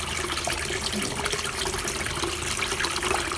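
Tap water runs in a steady, close splashing stream while mangoes are rinsed under the faucet, continuous and fairly loud throughout.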